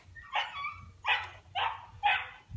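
A dog barks during leash training, four sharp barks spaced roughly half a second apart, close and loud over a low background rumble.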